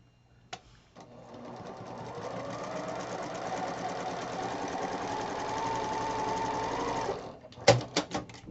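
A sewing machine stitches a quarter-inch seam on a quilt block, running in one steady, fairly close burst for about six seconds, then stopping with a few sharp clicks and taps.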